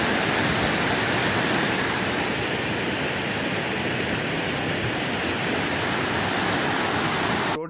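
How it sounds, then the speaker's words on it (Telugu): Floodwater roars out of a raised third dam gate on a swollen stream during heavy rains, a loud, steady, unbroken rush close by with no voices. "వరద వస్తుండగా మూడో గేట్ ఎత్తి నీటిని విడుదల చేస్తున్నారు"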